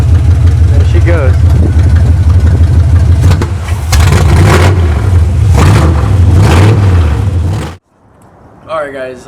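A 1964 Chevelle Malibu engine runs at a rumbling idle with a couple of revs, loud and close, then cuts off abruptly near the end, followed by a brief faint voice.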